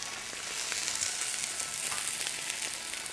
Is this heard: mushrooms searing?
yes